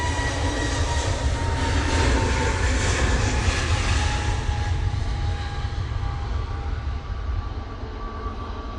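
EasyJet Airbus A320neo on its takeoff roll at a windy Manchester Airport, bound for Geneva: a loud, steady engine roar with a high whine that builds and then slowly fades, with no voices.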